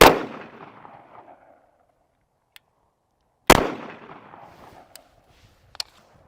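Two sharp 10mm pistol shots ring out seconds apart outdoors, each a loud crack trailing off into a fading rumble, followed by faint, brief pings of rounds striking steel targets.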